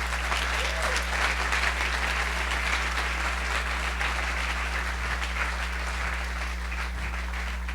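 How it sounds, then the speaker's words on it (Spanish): A church congregation claps together in a long, even burst of applause, with a low steady electrical hum underneath and no speech over it. "Denle un aplauso al Rey, por favor"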